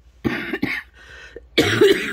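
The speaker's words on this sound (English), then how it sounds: "Which is why I've still got like quite a barky cough." A person with lingering congestion and asthma gives several harsh, barky coughs in close succession, loud and near the mic, with a short gap in the middle before a final heavier burst.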